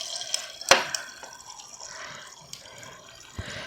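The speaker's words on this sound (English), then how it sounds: "And then I'm going to fill it with filtered water." Filtered water pours over a few ice cubes in a container in a home kitchen. There is a sharp clink near the start, then a soft, brief trickle and splash, with a faint tap later on.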